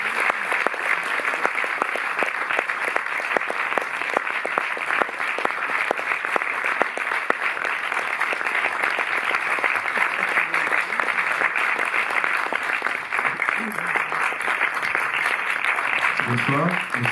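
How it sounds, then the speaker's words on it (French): An audience at a Cinémathèque film presentation applauds to welcome director Emmanuel Mouret and actress Virginie Ledoyen. The clapping is dense and sustained for the whole stretch, with voices rising near the end. "donc je vous invite à les applaudir"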